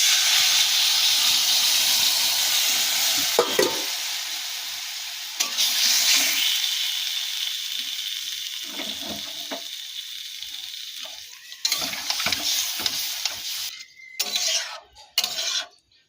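Fish and taro curry bubbling and hissing in a pan on a home stove, a steady close simmer with steamy sizzle, brief clatters and stirring scrapes, no voices.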